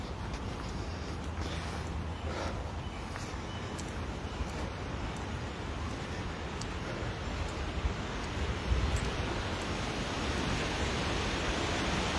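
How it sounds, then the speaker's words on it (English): A steady, broad rush of wind sweeps through trees, a continuous whooshing hiss that swells slightly near the end, with no voices. "quite a wind, although I'm sheltered here. You can hear it rustling in the trees."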